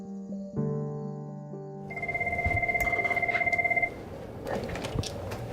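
A telephone rings at an abortion clinic in Wichita, Kansas: an electronic ringtone trills in a steady pulsing run for about two seconds over background room noise, with tonal beeps just before.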